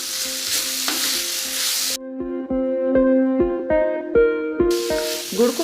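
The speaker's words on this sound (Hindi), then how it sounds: "गुड़ को हम मिक्स कर देंगे" Jaggery being stirred into guava chutney in a pan, with a steady sizzle and hiss broken by repeated scraping strokes of the spoon, close and fairly loud, with no talking.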